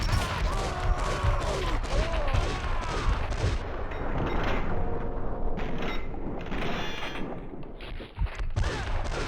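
Gunfire in the video game Max Payne 2, bursts of shots and booming impacts packed densely across the scene, loud and chaotic, with a voice shouting over parts of it.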